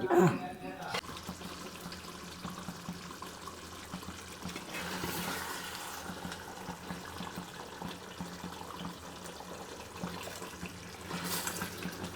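Water splashes and runs steadily into a pan of beef tongue curry, a continuous wet pouring noise with a brief clatter at the start and a surge near the end.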